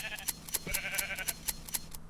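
Sheep bleating in Minecraft with the Botania mod installed, a flock of blocky game sheep giving short repeated bleats in a quick irregular rhythm, moderately loud and close, with no talking over them.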